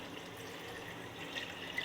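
Water poured into a grinder jar of fresh coriander and mint for green pani puri chutney, a steady close trickle and splash lasting the whole moment.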